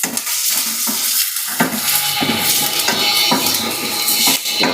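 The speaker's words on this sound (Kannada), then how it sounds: "ನೋಡಿ ಈರುಳ್ಳಿ ಚೆನ್ನಾಗಿ ಫ್ರೈ ಆಗ್ತಾ ಇದೆ." Onions sizzling briskly in a pan for a sprouted chickpea and black-eyed pea palya, with loud, close frying crackle and intermittent stirring scrapes and clinks throughout, no voices.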